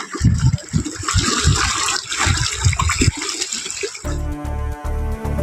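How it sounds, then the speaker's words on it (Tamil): The flooded Kumbakkarai waterfall in Theni rushes after heavy rain, a loud, churning gush of water for about four seconds before music takes over. "பலத்த மழையால் கும்பக்கரை அருவியில் வெள்ளப்பெருக்கு ஏற்பட்டுள்ளது."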